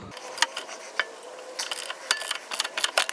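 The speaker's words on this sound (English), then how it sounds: "Next up, we're gonna remove the bolt at the subframe." Ratchet wrench loosening the subframe bolt of a BMW E90/E82/E84 rear trailing arm, giving bursts of quick close clicking that come and go irregularly, with no talk.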